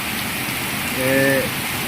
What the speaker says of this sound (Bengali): সুন্দর বৃষ্টি পড়তেছে। আর এখন ঘরের বারিন্দা থেকে ধরলাম বৃষ্টিটা।